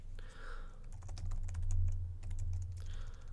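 Computer keyboard keys tapped out while a command-line command is entered during firewall configuration: a run of quick, light clicks at close range over a low steady hum, with no talking.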